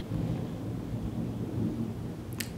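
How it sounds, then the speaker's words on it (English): Distant thunder from a thunderstorm rolls as a continuous low rumble with rain-like hiss, steady throughout, and a brief sharp click near the end, with no talking. "I don't know if you can hear that, but those are thunderstorms."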